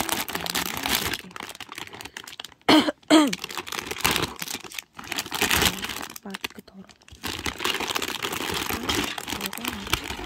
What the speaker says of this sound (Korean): 이렇게 뜯어야 될 것 같은데 가위로 뜯어야 될 것 같아요.